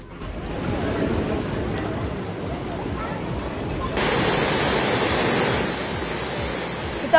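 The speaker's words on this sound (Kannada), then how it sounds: "ನಿರಂತರ ಮಳೆಯಿಂದಾಗಿ ನೇತ್ರಾವತಿ ನದಿ ಧುಮ್ಮಿಕ್ಕಿ ಹರಿತಾ ಇದೆ" The Netravati river at the Dharmasthala bathing ghat, swollen and rushing in flood after continuous heavy rain, gives a loud, steady roar of churning water that grows brighter and louder partway through.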